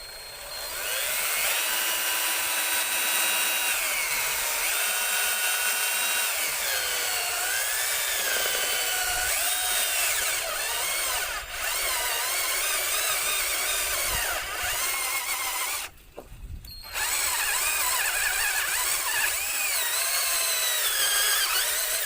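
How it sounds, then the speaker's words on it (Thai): Power drill boring holes through a plastic container for a homemade fish pond skimmer, a steady high-pitched whine running nearly continuously and close, with a brief drop around the middle before resuming. "ก็มาเริ่มเจาะกันเลย"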